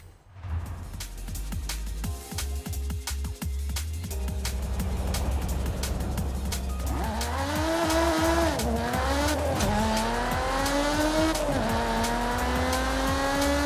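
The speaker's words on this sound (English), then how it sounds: "Pretty bad day at the office when Forza Horizon has you beat on engine noises." A Lotus Emira in the racing game Forza Horizon 5 revs hard and accelerates with rising, sweeping engine tones and squealing, skidding tyres, loud and continuous throughout.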